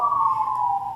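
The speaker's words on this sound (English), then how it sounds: "there's sirens going" Emergency vehicle siren passing outside a council meeting room, a steady loud wailing tone held throughout the second with little pitch movement.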